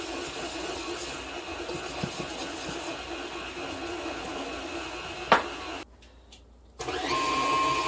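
Stand mixer churning cookie dough in a home kitchen, a steady whirring motor hum with a sharp clatter midway, a brief drop in level, then the motor running louder again to the end.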